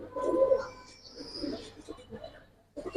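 A few soft coos from Giribaz and colored fancy pigeons in a loft, strongest at the start, with someone talking close by.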